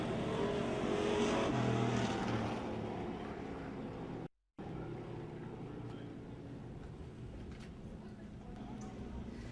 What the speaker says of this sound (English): Out of corner 4, one last time in this heat race.